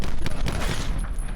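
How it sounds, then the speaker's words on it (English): Auger DMR rifle fire in Call of Duty Black Ops 4, a dense, loud burst of overlapping shots filling a short moment with no talk. "We got the Auger DMR this time around."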